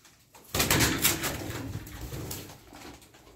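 Restless Sütbeyaz game pigeons in a loft give close cooing calls and rustle about, a burst of busier sound followed by a gradual tapering, with no talking.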